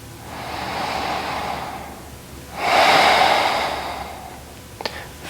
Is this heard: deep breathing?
yes